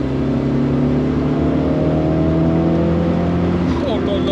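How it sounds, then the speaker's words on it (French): Turbocharged engine of an Alfa Romeo 75 Evoluzione sports saloon accelerating on a wet road, a loud close drone that climbs steadily in pitch as the revs build, heard from inside the car. "on va se refaire un petit enclenchement de turbo"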